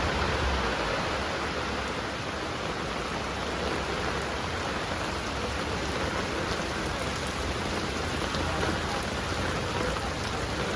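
Steady, dense rain pours down continuously near a home in the Konkan region by Savadav waterfall, an even hiss filling the whole stretch without pause or voices.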